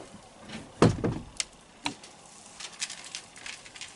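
A door being opened during morning farm chores, with a clattering knock followed by a few lighter taps and rattles against a quiet background.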